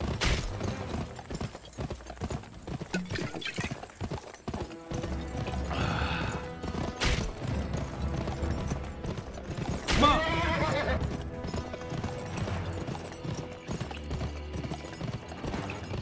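A horse gallops in a western shooting video game, its hooves clip-clopping steadily and close, with a couple of sharp neighs breaking through over the rhythm.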